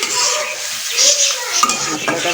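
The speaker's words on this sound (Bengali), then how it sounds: "মশলা দিয়ে ভালো মতো মশলাটা কষাই নেব" Spice masala sizzling in hot oil in a pan while being stirred, a loud, close, continuous frying hiss broken by scraping strokes of the stirring utensil.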